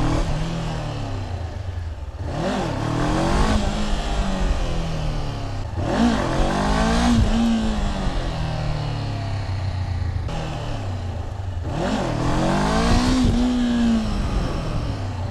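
Motorcycle engine revs hard as the clutch is popped for wheelie attempts, three rising and falling bursts of throttle with idle between, fairly close and loud.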